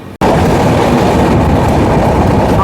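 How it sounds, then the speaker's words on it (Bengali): The Sealdah–Jalpaiguri Humsafar Express runs through Dum Dum Junction at night: after a split-second gap, a loud, continuous rumble of wheels and carriage noise fills the space without a break. "আমাদের ট্রেন এখন ক্রস করছে দমদম জংশন।"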